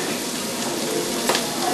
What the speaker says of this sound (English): our bacon is rendering